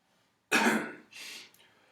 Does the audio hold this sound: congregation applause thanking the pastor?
no